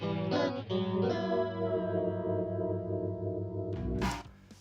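Distorted electric guitar intro from a song, sustained chords ringing with chorus, echo and reverb effects, loud and alone, with a brief noisy burst near the end.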